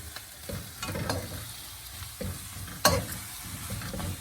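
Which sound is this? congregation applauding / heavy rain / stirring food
stirring food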